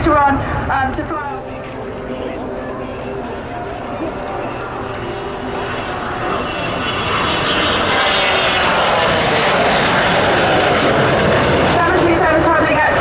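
A fixed-wing aircraft flying a display at the RAF Cosford Air Show gives a loud engine roar that swells steadily and peaks at the close as it passes near.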